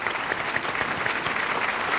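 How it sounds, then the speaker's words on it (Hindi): Crowd applause at the Attari-Wagah border Independence Day celebration: dense, steady clapping from a large audience that holds at an even level throughout. "हम सब इनके लिए तालियों के साथ इस कार्यक्रम की शुरुआत करते हैं।"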